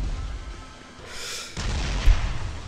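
Explosion in a mobile game summon animation, a rising whoosh that swells and cuts off before a deep booming blast with a sharp thump near the end, loud and alone without talk.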